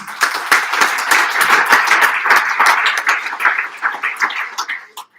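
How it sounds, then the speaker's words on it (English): Sustained applause from a crowd at a Hall of Fame banquet, dense clapping that holds steady for several seconds, then thins into scattered claps and fades out near the end. "So let's give a big round of applause to them."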